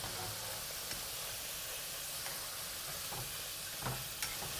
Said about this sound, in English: We've been frying the potatoes for a while already